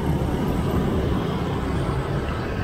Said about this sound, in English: And one of the things I hate is the traffic and the noise.